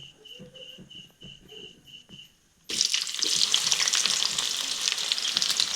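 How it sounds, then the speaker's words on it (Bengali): Chopped onion hits hot oil with whole cloves, cardamom and cinnamon for chicken kosha, a loud steady sizzle erupting midway after quieter stirring and faint tones, then continuing dense and close. "তো পেঁয়াজটি প্রথমে হালকা লাল লাল করে ভেজে নিচ্ছি।"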